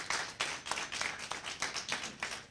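A school debate audience claps after a speech, a brief round of scattered, uneven hand claps with loose rhythm, fairly close and alone, with no speech.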